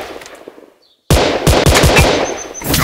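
Rapid automatic gunfire from a shooting video game erupts suddenly after near silence, loud close bursts of repeated shots.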